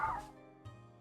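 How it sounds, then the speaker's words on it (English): A dog outside gives a short yip-like bark followed by a second brief whimpering bark, faint and distant, over a quiet room. "I'm so sorry about the barking dog."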